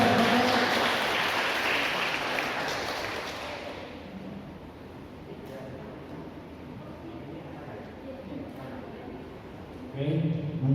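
Audience applause welcoming a guest lecturer, Dr. Halim, at a 2021 accounting guest lecture, a broad wash of clapping that starts loud and fades away over about four seconds, followed by room noise and talk.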